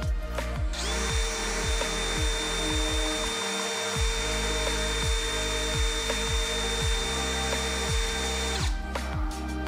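A Stanley Fatmax SBD715D2K drill whirs steadily at its second speed setting, a high continuous motor whine close by, accompanied by repeated rhythmic clicking ticks through most of the run before it stops.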